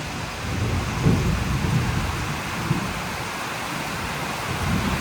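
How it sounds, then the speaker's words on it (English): Heavy rain roaring steadily while low thunder rumbles through, swelling around the middle, with no one speaking. "And bro, it's freaking raining,"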